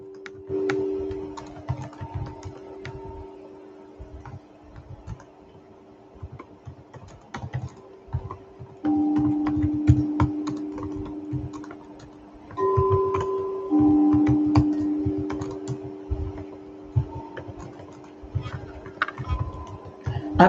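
Steady typing on a computer keyboard, close and clear, with key clicks running in bursts and brief pauses throughout, faint talk now and then underneath.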